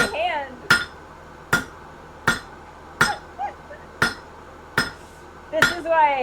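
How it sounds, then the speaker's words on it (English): A hammer driving a nail, struck eight times in a slow, slightly uneven rhythm, each blow a sharp, close metallic crack, while a person talks over the strikes. "My hammer is off balance in my hand."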